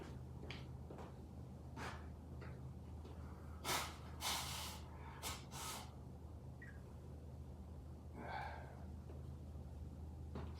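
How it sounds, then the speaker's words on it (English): Several short bursts of forceful nasal blowing and snorting, scattered across the clip over a steady low hum, with brief sniffs in between. "Let's go blow my nose really quick"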